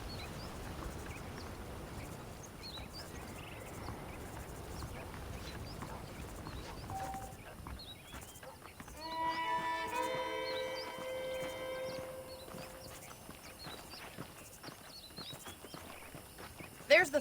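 Saddled horses in the western video game Red Dead Redemption, hooves clip-clopping softly in an even walking rhythm under a voice, followed by a swell of faint musical tones and a sharp knock at the end.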